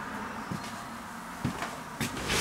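A wardrobe door in a bedroom of a rental apartment is opened, giving a few soft knocks and a brief sliding rub over quiet room tone.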